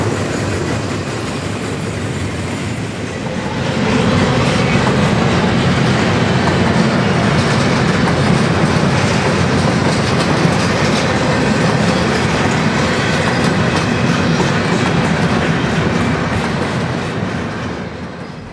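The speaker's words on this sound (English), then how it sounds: "The deafening noise caused by two trains simultaneously pounding the diamonds" Loud, rumbling clatter of two N scale model trains simultaneously pounding over track diamonds, building after a few seconds into a sustained metallic roar before easing slightly.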